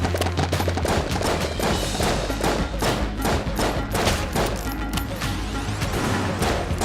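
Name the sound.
gunfire shooting targets in video game Enter the Gungeon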